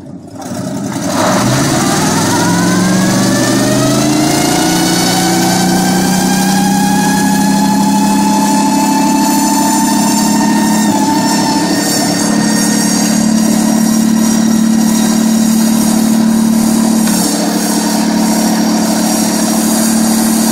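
A car engine revs hard and steadily during a burnout, a loud sustained rising roar with tire noise throughout; no clear single blowout burst stands out.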